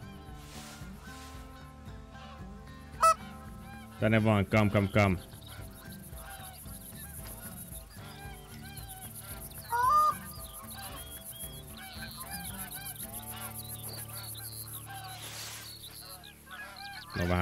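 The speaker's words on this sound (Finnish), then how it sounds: "meillä on hanhia" Geese honking outdoors in a hunting setting, loud bursts of repeated honks around four to five seconds and again near ten seconds, with someone talking and calling to the birds between them.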